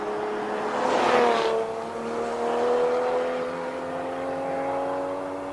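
A race car at the Simola Hillclimb King of the Hill event snarls loudly up close, braking hard and changing down before the engine climbs again through steady rising revs, with no talk.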